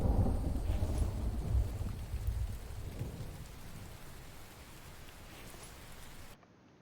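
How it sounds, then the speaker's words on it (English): Thunder and steady rain in a video game, a loud low rumble opening the clip and fading under continuous hissing rainfall, which cuts out abruptly at the very end. "I might need to turn down the volume of that thunder"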